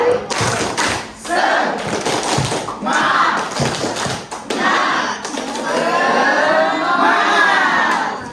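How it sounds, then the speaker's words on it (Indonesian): At a senior high school gathering, a crowd repeats the 'tepuk semangat' spirit clap: sharp rhythmic clap groups alternating with loud shouted group cheers, voices dominating the second half. "Oke, sekali lagi. Tepuk semangat."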